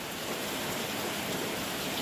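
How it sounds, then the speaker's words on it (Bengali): Heavy rain pouring down outside a house, a dense, steady hiss of drops drumming on surfaces, continuous and fairly loud with no talking. "প্রচণ্ড বৃষ্টি হচ্ছে বাইরে"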